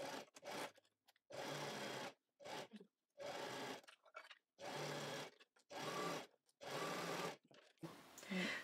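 A domestic sewing machine stitches the back seam of a pair of trousers in repeated bursts of fast whirring, each run lasting about a second, separated by short pauses.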